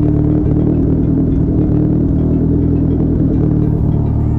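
A DSM car's turbocharged 4G63T engine idles, heard from behind at the exhaust, as a loud, steady, deep rumble that holds an even throb the whole time with no talking.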